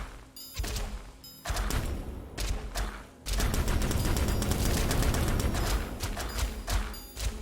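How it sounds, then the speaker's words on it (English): Gem bombs burst in GemCraft Frostborn Wrath, a dense rapid barrage of crackling blasts that stops briefly and then surges back as a loud, continuous volley. "Let's just drop a bunch of bombs."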